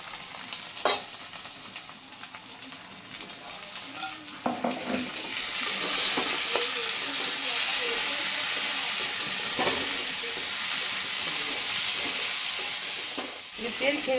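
Garlic and ginger paste sautéing in hot oil for a Bengali-style mutton curry, with a steady close sizzle that swells midway and continues alongside occasional stirring scrapes, with no talking.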